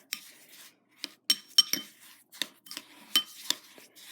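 A spoon stirring snow ice cream mix, clinking and scraping against the dish in quick irregular taps, close and fairly quiet with no talk.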